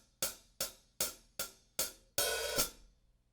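Drum kit hi-hat played with a stick: five short, crisp closed strikes in a steady pulse, then one longer open, washy hit that is clamped shut by the foot pedal, loud and close with no talking.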